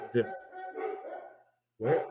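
A dog barks a few times during a live online stream, the short barks fairly faint and mixed with people talking over a call.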